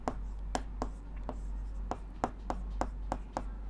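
Pen scratching out equations on paper in a maths lesson, a steady series of short, close, crisp strokes at an even rhythm over a low electrical hum.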